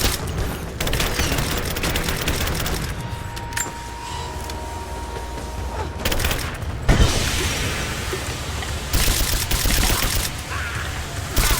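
Rifle fire in Rise of the Tomb Raider comes in loud, rapid bursts and scattered single shots, with mechanical clicks and clatter between volleys amid combat noise.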